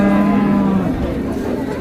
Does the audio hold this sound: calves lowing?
yes